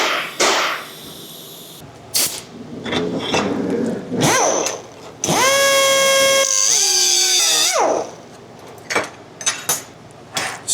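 Cutting tool slicing off metal jack pad pieces for billet trailing arms, with short scattered bursts of workshop noise and then one loud, steady high-pitched whine lasting a couple of seconds before it winds down.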